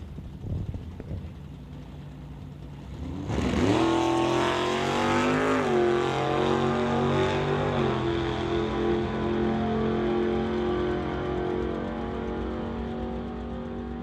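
A 1966 Ford Mustang and a Chevy Bel Air launching side by side at a drag strip: quiet idle, then a sudden loud roar as engines rev and pull away, pitch rising and easing into a sustained fading drone.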